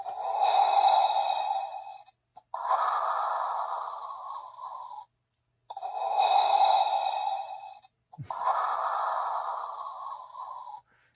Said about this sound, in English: And this is the last one. It's a deeper breath.